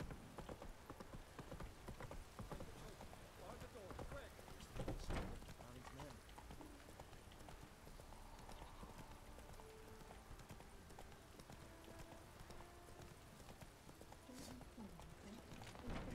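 Hooves of Roach, a horse in The Witcher 3, clip-clop at a run in a steady quiet rhythm throughout, with someone talking over the sound.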